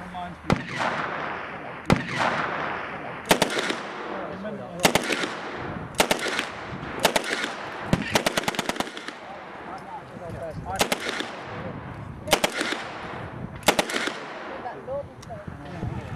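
Historic machine gun firing sustained bursts at a demonstration, sharp loud rattling volleys repeating every second or two with echoing decays between them.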